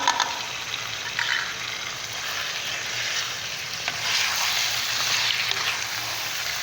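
Steady, crackling sizzle of ginger-garlic-chili paste frying in hot oil in a pan, continuous and close, with no talking.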